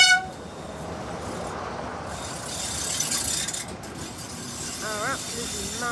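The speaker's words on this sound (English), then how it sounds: "Here is our next train arriving into Watchet to take us to Stigumber." A Class 46 Peak diesel locomotive hauling a long train rumbles and clanks steadily into Watchet station on the West Somerset Railway, with a brief whistle-like squeal and people talking nearby.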